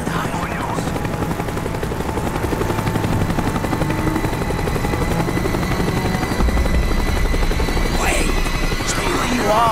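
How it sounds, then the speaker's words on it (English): A helicopter in Call of Duty: Black Ops thumps with a loud, continuous rotor chop close by, filling the scene with dense mechanical noise while brief voices and faint gunfire-like bursts break through. "The chopper is coming around again."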